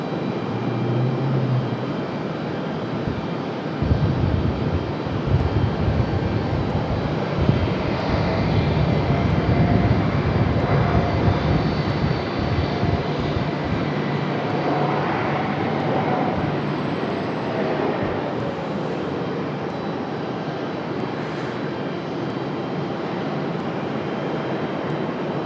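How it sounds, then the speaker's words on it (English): An Airbus A220 jet touches down and rolls out on the runway at Raleigh-Durham International, a steady, fairly distant engine roar with reverse-thrust swell that holds throughout and slowly fades. "Nice touchdown for the A220."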